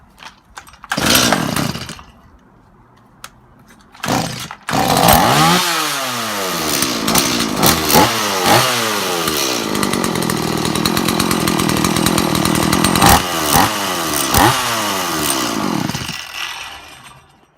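A Stihl MS 180 chainsaw is pull-started with a couple of loud cord yanks, then catches and runs loud and close, revving up and down with a rough, buzzing two-stroke engine note.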